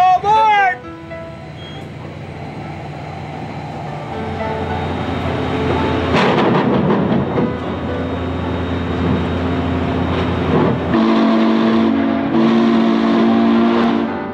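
A Western Maryland Scenic Railroad steam train at Cumberland Station sounds its whistle in long, loud tonal blasts amid rumbling and clanking of departure, with a voice heard at the start.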